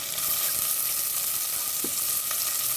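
Chopped onion and coriander fry in a hot pan for a chicken biryani, giving a steady, even sizzle that holds close and constant from start to end. A few faint stirring clinks come through, and nobody speaks.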